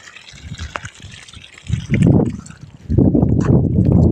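Water pours and splashes while muddy sandals are washed outdoors after days of unseasonal rain, in two loud gushing bursts with quieter dribbling between them.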